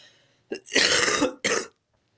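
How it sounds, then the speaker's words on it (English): Two harsh, breathy coughs close to the mic, the first long and rasping, the second short, with quiet moments before and after. "sorry, I've got a cough."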